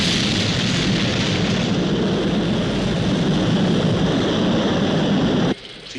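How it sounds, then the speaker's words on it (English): A rocket lifting off sends up a loud, steady broadband roar that holds for several seconds before dropping sharply in level near the end, with no voices. "We have liftoff."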